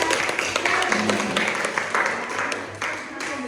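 A small group of people clapping in a classroom lesson, a brief ragged round of applause with some voices and murmuring mixed in beneath the steady patter.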